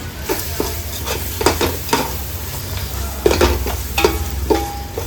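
Spices with coriander and cumin powder fry in a pan for chicken tikka biryani while a spoon stirs and scrapes in quick repeated strokes over a constant close sizzle.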